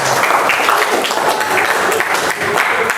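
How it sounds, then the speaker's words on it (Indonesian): Classmates applauding in a classroom, a brief burst of dense, close clapping that carries evenly for a few seconds. "Oke, beli aplaus tempat teman-temannya di depan."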